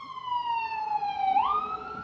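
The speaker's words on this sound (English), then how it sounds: "it's a fucking ambulance." An ambulance siren passes outside, one long, steady wail that bends downward as it goes by, clear and fairly loud against quiet background noise.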